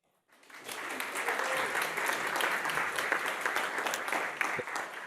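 Sustained applause from a seminar audience, steady and dense for about five seconds after a brief silent start, with no voices over it.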